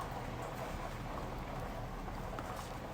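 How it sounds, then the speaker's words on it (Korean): Steady rain falling hard over an outdoor summer setting in France, a dense continuous hiss of drops hitting surfaces that holds evenly throughout with no voices. "오늘 되게 오랜만에 비가 좀 시원하게 오는 것 같아요"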